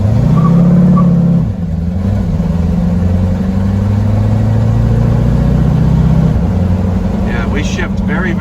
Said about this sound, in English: We're going to start from stop, and I'm just going to go through the gears.